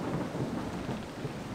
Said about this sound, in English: Here we are in a rainy, windy, stormy setting.